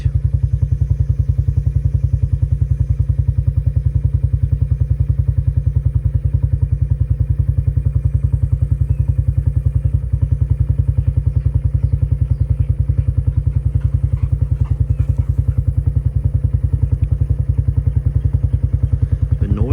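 A side-by-side utility vehicle engine idles steadily nearby in a pasture, a rapid, even chugging thump that continues unchanged throughout.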